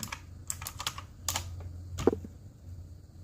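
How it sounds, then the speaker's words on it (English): Quiet typing on a computer keyboard, a handful of scattered close key clicks in short irregular bursts with a soft hum beneath. "let me type in"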